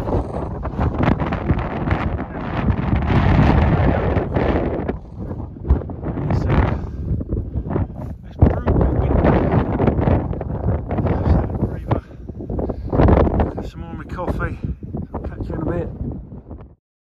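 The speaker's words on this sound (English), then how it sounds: "See the wind." Strong wind buffeting a microphone on a cold mountain peak, loud rumbling gusts that rise and fall continuously, with a person talking through the roar.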